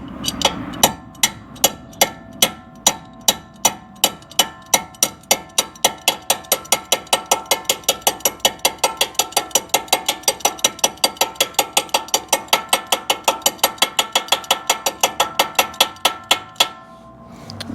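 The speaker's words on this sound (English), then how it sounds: "We'll get the adjustable hammer here." Hammer striking a steering part on a lifted Jeep Gladiator during a high steer kit install: dozens of sharp metallic blows, slower at first, then a fast, even rhythm that stops abruptly near the end, with no talking.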